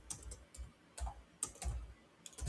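Quiet clicking of keys on a computer keyboard, irregular bursts of typing heard close but soft.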